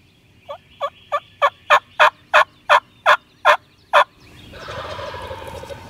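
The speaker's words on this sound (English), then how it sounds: "They've gobbled incredible on the roost this morning. They're on the ground now. They're still gobbling." Wild turkeys gobbling on the ground after leaving the roost on a spring morning in Nebraska: a run of about eleven loud, evenly spaced gobble notes, followed by a softer, rougher rattling call.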